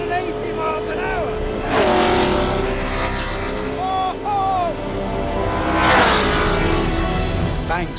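A 1.5-litre Lotus 25 Formula One race car engine screams at speed, with loud high-pitched revs rising and falling as it passes, surging twice across a continuous roar; speech is mixed in.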